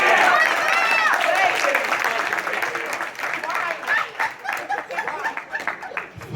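An audience at an all-star panel at a retro gaming convention claps loudly at first, then the applause thins and fades into scattered claps and crowd murmur.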